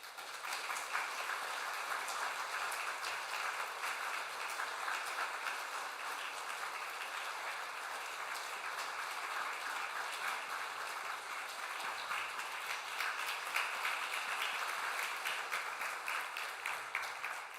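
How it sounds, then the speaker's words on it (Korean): A church congregation applauds during a Sunday service, a steady, dense wash of clapping that holds at an even level throughout without a break. "우리 전달할 때 큰 박수로 격려하겠습니다"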